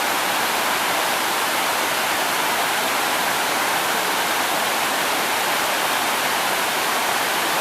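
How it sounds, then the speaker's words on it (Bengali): A wide waterfall in Bangladesh, with the Raikhang River downstream, pours its main flow in a constant, loud, dense roar of rushing water that stays even throughout, with no voices. "এটা হচ্ছে ঝর্ণার মেইন ফ্লো।"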